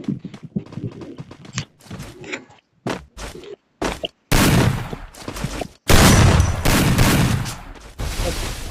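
Gunfire in the mobile shooter Free Fire, loud bursts and volleys that grow heavier and denser in the second half, after a stretch of quieter, choppy clatter and brief gaps.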